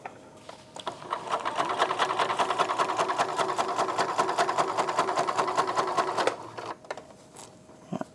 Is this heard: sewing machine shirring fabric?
yes